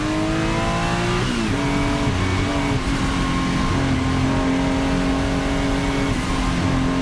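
Race cars, including a Porsche 935, roar past in close wheel-to-wheel racing, with loud sustained engine howls and pitch drops at gear changes, rising and falling continuously.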